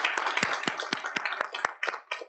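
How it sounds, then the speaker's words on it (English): Short burst of audience clapping for panelists at a leadership panel event, a small group with distinct individual claps that thin out toward the end. "Can we get a round of applause for our panelists"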